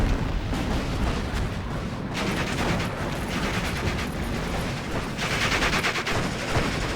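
Dense, continuous battle din from Steel Division Normandy 44, with rolling artillery fire and overlapping gunshots, including bursts of rapid automatic fire, sustained and loud for the whole stretch.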